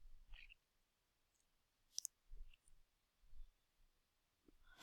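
A computer mouse clicks a few times, sharp isolated ticks in a quiet room with no talking, including one loud click at the very end.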